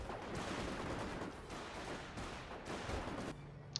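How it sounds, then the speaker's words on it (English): Machine gun fire in Company of Heroes rattles as dense, steady bursts of moderate loudness across the whole stretch, with no speech. "Oh, that's not even my machine gun. That's Erik's machine gun."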